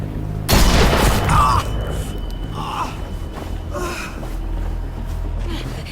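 A single loud gunshot from The Walking Dead video game, a sharp close boom followed by a short tail, then a quieter game soundscape with faint voices.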